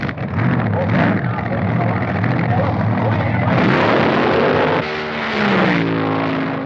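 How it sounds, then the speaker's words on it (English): A drag race for the championship between a 1923 Model T-bodied dragster and a supercharged Mustang. Loud engines roar throughout and pitch sweeps upward as the cars accelerate past, with a commentator talking over the noise. "Ron Ellis and his 1923 Model T-bodied dragster faces George Montgomery's supercharged Mustang in the championship run."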